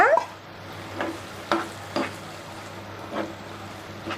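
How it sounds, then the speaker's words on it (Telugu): Palak paneer masala being stirred and fried in a pan: a soft, steady sizzle with a low hum underneath and several scraping spatula strokes at regular intervals, close up with no talking. "ఇలా కొంచెం వేగాలి"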